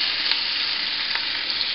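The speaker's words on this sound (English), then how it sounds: "if you're not used to frying, then you want to be real careful, because if the oil pops on you" Salmon croquettes fry in hot oil on a stovetop, giving a steady, close, bright sizzle with faint crackles and pops throughout.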